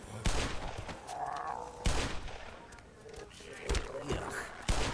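Gunfire in the Black Mesa shooter game: several sharp, loud shots and short bursts at an irregular pace over busy game noise, with voices talking throughout.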